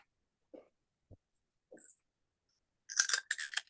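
Crunching bites into a pizza-flavoured potato chip come as a few sparse, close crackles, then a louder burst of crisp chewing near the end, with no talking.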